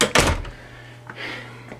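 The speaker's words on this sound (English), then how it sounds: "Close the door." A hotel room door at a Travelodge in Simcoe, Ontario, swings shut with a quick close thud, followed by faint handling noises and a low room hum.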